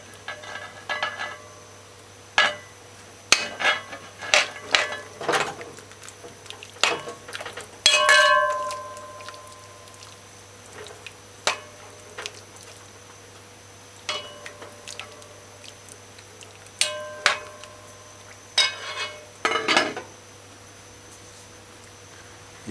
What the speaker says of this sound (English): Now after a total of 20 minutes, stir your pot.